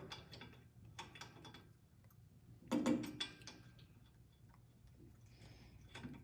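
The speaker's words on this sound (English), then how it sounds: "I'm gonna get the first 2 bolts started." Bolts being started by hand during assembly of a Challenger, giving soft mechanical ticking and ratchet-like clicks in short bursts, close by and fairly quiet, with one louder knock partway through.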